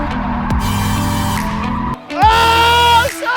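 Engine roar and rising tire squeal from an RTR Mustang drifting at a drift school, a brief dip, then a louder second screech with revving, heard close.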